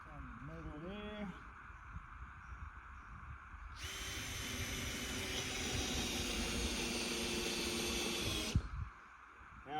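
A power drill whirs loudly for several seconds, driving screws into poplar roof boards outdoors, preceded by a few quieter sounds and brief voice-like tones.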